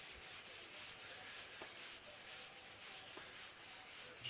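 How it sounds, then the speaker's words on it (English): A dusty motorcycle windscreen is rubbed gently and fast, making a steady, even, rhythmic swishing friction sound close up, with no voices heard. "Basically rub fast and gentle."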